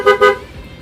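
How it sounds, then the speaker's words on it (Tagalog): Car fitted with a PIA horn gives two short bright honks in quick succession, loud and close, then fades into faint background noise. "Tapos, busina, PIA horn."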